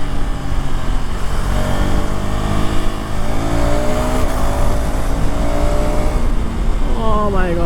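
A KTM Enduro 390R motorcycle engine on a ride, geared with a larger rear sprocket, drones loud and close with rising and falling revs through gear changes, a voice briefly talking over it.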